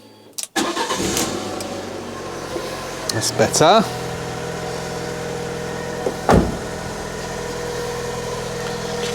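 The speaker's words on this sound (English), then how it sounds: "first thing I wanted to do is start it up now it's got an exhaust on it and see how it runs" A Fiat 500 with a newly fitted exhaust cranks and catches, then settles into a steady close idle with a couple of brief blips, while people talk nearby.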